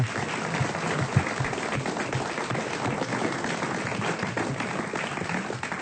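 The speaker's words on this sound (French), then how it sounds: "Merci, on vous applaudit." A theatre-show audience applauds steadily in a dense, even wash of clapping that holds at a constant level throughout, with no voices rising above it.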